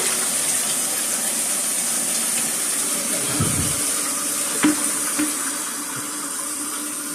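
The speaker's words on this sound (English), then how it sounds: "all we gotta do to test it is flush" A newly replaced toilet flushes after a DIY installation, giving a steady, close rush of water that runs the whole time with a few small gurgles and no talking.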